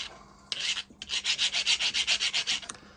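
A hand file rasps across a hardened steel star lock to OIS blade adapter for a Bosch or Fein multitool, one short scrape then a dozen even back-and-forth strokes, close and loud.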